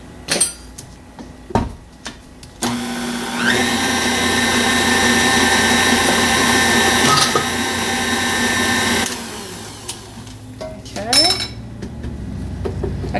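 A blender whirs loudly and steadily for about six seconds as it mixes a coffee-scented shower steamer mixture with menthol crystals, framed by knocks and clatter of containers before and after.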